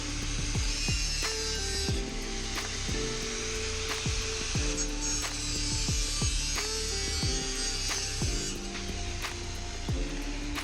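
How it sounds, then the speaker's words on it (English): Trim for a dog house door opening is cut to length with a power tool: a steady motor drone with a series of regular cutting strokes, close and fairly loud, and no talking. "Here I'm cutting the trim to length"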